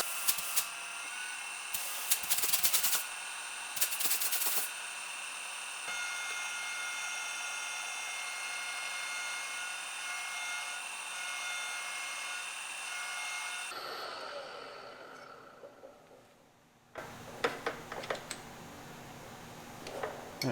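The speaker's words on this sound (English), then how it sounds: "Sometimes I like running just a little bit of that coolant with the reamer." A reamer cuts Minneapolis-Moline G1000 cylinder heads on a machine with a little coolant, giving a steady high whine and scraping that runs through most of the span, with brief louder grinding bursts near the start and at the end.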